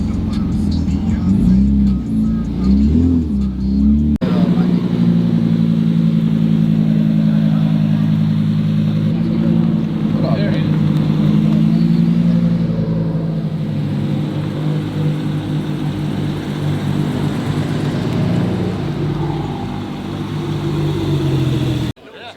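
Supercar engine droning steadily from inside the cabin while driving, with a sharp shift in tone early on like a downshift, then a sustained loud hum and road noise that cuts off at the end.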